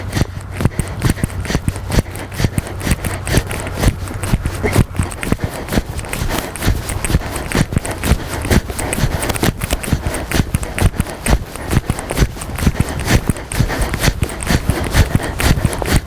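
A horse being ridden haunches-in during a dressage schooling session, steady rhythmic hoofbeats thudding on an arena surface throughout, close and continuous without pause.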